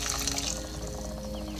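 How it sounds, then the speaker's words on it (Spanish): Hot water is poured over dried chiles in a kitchen to soak them for adobo marinade, a steady close splashing pour with no talk. "Ya que le quitamos todos los rabitos, entonces le ponemos el agua caliente"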